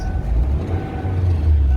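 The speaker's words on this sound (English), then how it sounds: "if you turn the AC on, the car does not like it at all" A salvage-auction car's engine running rough with the AC compressor switched on, a loud low drone with uneven surges and a faint steady whine above it.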